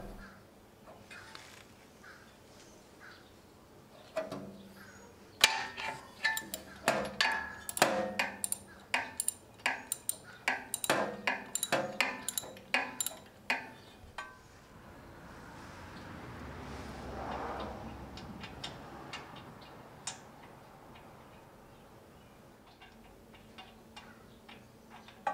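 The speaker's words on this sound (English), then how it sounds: "Then attach the ratchet and loosen the spark plug by turning it counterclockwise" Ratchet with a 13/16 socket loosening the spark plug on a Briggs and Stratton Elite Series generator, heard as a fast run of sharp metallic clicks in bursts, close and fairly loud, then a quieter stretch of handling noise.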